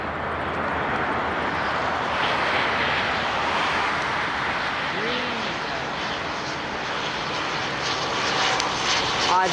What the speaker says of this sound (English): It's an Air Canada 767 and Star Alliance Livery.